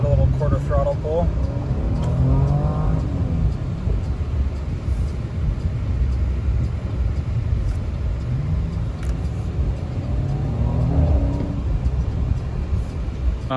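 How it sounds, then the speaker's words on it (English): A 2020 Audi S6 accelerating at light quarter throttle, a low steady engine rumble and road noise heard from inside the cabin, with someone talking over it throughout. "Give it a little quarter throttle pull."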